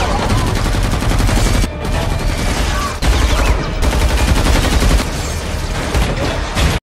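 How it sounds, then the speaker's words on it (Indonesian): Loud, dense gunfire fills a film scene as a mafia gang bursts into an event hall and shoots at the guests. Rapid bursts of automatic fire run almost without a break, with brief gaps near two and three seconds. "Mafia itu tiba di ruang acara dan langsung menembaki para tamu."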